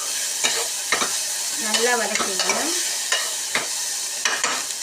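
Mutton bones and masala being sautéed for mutton bone soup, with a steady stir-frying sizzle and repeated scraping strokes of a spoon against the pan, and a brief word spoken over it.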